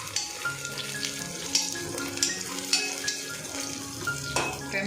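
Chopped green chillies dropped into onions frying until browned, giving a soft steady sizzle with periodic spoon scrapes and clinks against the pan, close by and fairly quiet.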